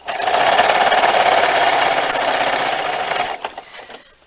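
A sewing machine stitching binding onto a quilt by machine, a loud rapid whirring hum running steadily for about three seconds, then slowing and stopping with a few soft clicks.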